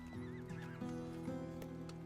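Horses in the Total War Rome Remastered campaign whinny and neigh over a steady bed of game ambience and soft hoofbeats, several calls overlapping at close range, loud and continuous throughout.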